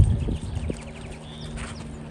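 Hooves of a Tennessee Walking Horse in a running-walk gait thud in a quick, even rhythm, loudest at the start and then softer, with no talk over them.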